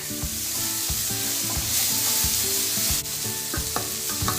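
Tomato frying in a stir-fry pan for chicken breast and broccoli hisses steadily while a spatula scrapes and knocks against the pan in a loose rhythm, close and continuous, no one talking.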